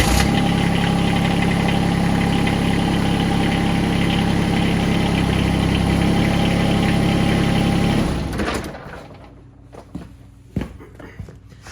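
A John Deere X700 riding mower engine runs at a steady, loud idle nearby while the mower deck is raised, then shuts off, leaving near quiet with a few faint clicks and knocks.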